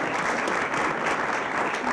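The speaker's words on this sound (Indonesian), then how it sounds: "tepuk tangan untuk Dato Maringgi." A studio audience at a comedy talk show claps for a guest, a steady, loud wash of applause filling the whole short stretch with no voices over it.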